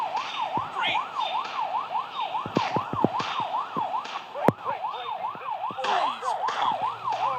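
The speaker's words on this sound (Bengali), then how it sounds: "ভাই পুলিশের গাড়ি নিয়ে চলে গেলাম ভাই" Police car siren in a Rope Hero video game, a loud rising-and-falling wail cycling steadily throughout, with sharp impact and engine noises from the game interrupting it.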